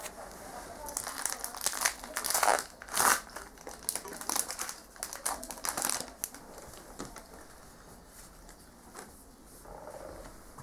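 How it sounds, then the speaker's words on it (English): A Pokemon TCG XY Flashfire booster pack being torn open, with close crinkling foil wrapper and tearing bursts, then quieter handling of cards as the sound fades out. "Here we're doing the Pokemon the Trading Card Game, X and Y, Flashfire."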